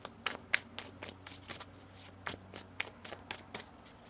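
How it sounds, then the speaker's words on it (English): Tarot cards being shuffled by hand, a series of quick crisp riffles and soft slaps repeating close up in a quiet room. "One more shuffle."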